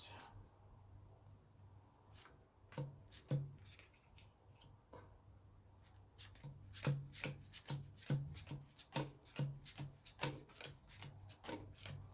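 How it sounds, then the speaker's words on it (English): A deck of Lord of the Rings LCG cards is riffle-shuffled on a table, a faint rubbing at first, then a run of crisp, repeated snapping riffles close by with no talking. "You have to shuffle the deck."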